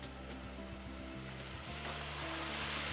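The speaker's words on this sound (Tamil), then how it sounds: "பூண்டு கருவேப்பிலை கொஞ்சம் பொரியட்டும் ஒரு ஃபியூ செகண்ட்ஸ் நல்லா பொரிய விடணும்" Garlic and curry leaves fry in hot oil with a steady, close sizzle that holds at an even level throughout, with no one talking.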